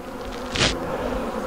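Honeybees buzz around a small nucleus hive, a steady low hum with one bee zipping close past the microphone in a brief loud drone midway, set against constant background buzzing.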